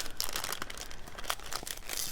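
Parchment paper is torn by hand for a junk journal, a soft, close crinkling rip with small crackles that keeps going for about two seconds.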